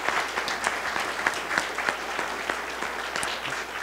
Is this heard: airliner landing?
no